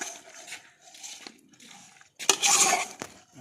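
Spice masala is stirred into lemon pickle in a vessel, giving intermittent scraping and clinking spoon strokes, with a louder burst of rattling stirring toward the end.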